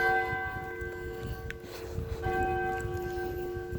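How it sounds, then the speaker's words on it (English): Church bells ring steadily with sustained, overlapping tones, heard from a moderate distance over low background rumble. "And there you hear the church bells right up there."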